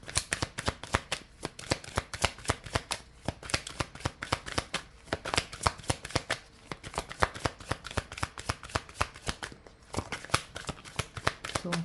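Inner Star oracle cards shuffled continuously at close range, a dense, steady riffling and slapping of card stock with rapid crisp ticks throughout, no voices.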